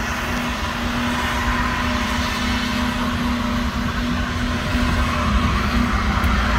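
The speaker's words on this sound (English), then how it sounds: "this burnout is just takes the cake" A classic Dodge pickup truck doing a burnout gives a loud, sustained engine roar with a steady droning tone and constant tire noise that holds unbroken throughout.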